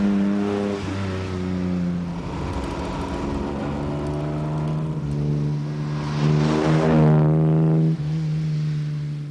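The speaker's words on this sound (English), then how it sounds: "because it has a rather lovely exhaust note" An Aston Martin sports car's exhaust note rumbles and rises as the engine revs, a deep throaty drone with a louder surge toward the end.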